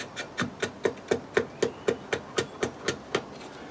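Steady series of about fourteen evenly spaced sharp tapping strikes as a tool works the end grain of a wooden bowl, carving away small layers of timber; close, crisp and fairly quiet with no talk.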